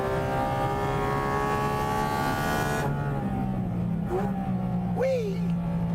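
A Porsche sports car engine droning steadily under throttle, loud and close, with tonal harmonics that fade after a few seconds as wind noise continues. A voice talks over it.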